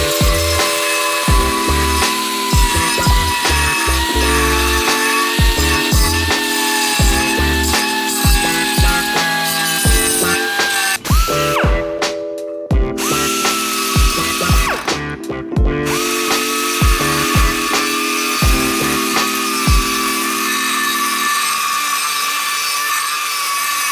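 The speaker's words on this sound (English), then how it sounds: "I'll just finish this off with a with like an air Dremel tool and clean that up" An air-powered Dremel grinds metal on an old-school bobber motorcycle build, loud and close, in long continuous whining passes broken by a few short pauses and stops near the end.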